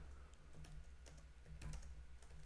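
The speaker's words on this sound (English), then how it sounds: "then you can start typing" Computer keyboard being typed on at a desk, a faint run of light irregular key clicks with a few brief pauses against a low steady hum, no talking.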